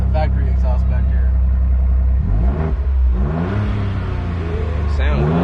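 A Jeep with its factory exhaust revs close by at an auto auction, a loud low rumble that rises and falls through a couple of throttle blips, with people talking over it.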